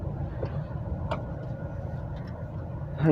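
A car being parked in the shade near a vegetable and fruit market in Wuhan, China, a low steady engine rumble close by, idling evenly with slight rise at the end.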